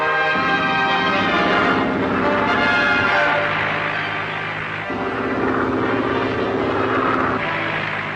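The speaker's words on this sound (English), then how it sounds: "Keep above that helicopter." A loud, steady helicopter engine drones overhead with a pulsing, chopping rotor rhythm, continuous and close, shifting slightly in tone as it flies.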